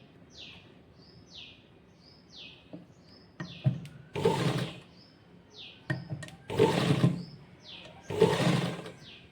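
A sewing machine stitches a folded fabric loop for a sleeve in a few short whirring runs, while small birds chirp steadily in the background.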